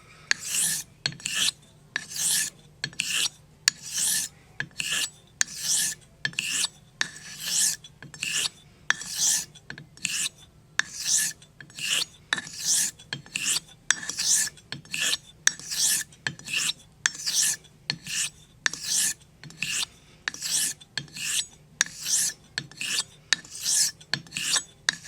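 Henckels stainless steel straight razor honed on a sharpening stone, a steady series of even rasping strokes, each short swipe followed by a brief pause, close and clear with no talking.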